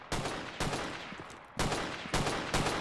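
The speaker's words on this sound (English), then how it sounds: "Yeah, we're walking towards a gunfire." Bursts of loud, close automatic gunfire in several sustained volleys with brief pauses between them, in the video game ZERO Sievert during a battle in a mall.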